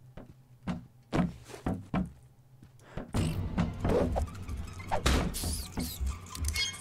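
A door opens in the video game Kill It With Fire: a few thunks and knocks, then a longer sliding, rumbling mechanical movement with clattering, moderately loud against the game's ambient background.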